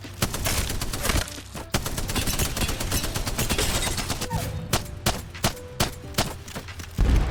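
The Spitfire care-package machine gun from Apex Legends fires a long, unbroken stream of rapid shots, then breaks into a string of separate, evenly spaced single shots near the end. It is loud and close.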